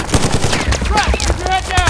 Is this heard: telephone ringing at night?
no